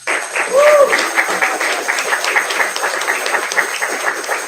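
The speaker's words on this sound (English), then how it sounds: "So can I get a big round of applause for them?" Audience applause at a scholarship awards event: steady dense clapping from a crowd, fairly loud and sustained throughout, with a brief voice or whoop near the start.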